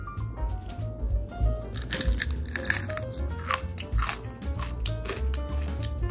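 Crispy pork lechon skin crunches under repeated bites, several sharp crackling bursts spaced through the chewing, close and fairly loud with no talk over it.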